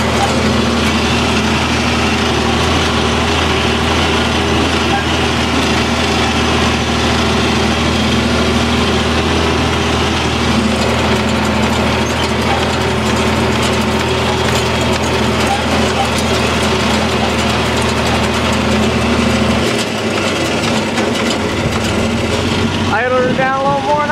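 A tractor engine chugs steadily while raking hay in a bumpy field, a loud, continuous running drone close by that drops off near the end, with someone talking over it.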